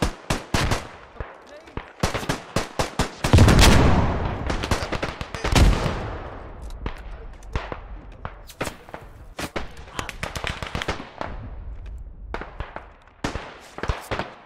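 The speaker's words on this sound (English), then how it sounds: "These explosions." Explosions and gunfire rattle through a Beyond the Wire battlefield game, with rapid machine-gun bursts, sharp single shots and two heavy booming blasts, loud and close.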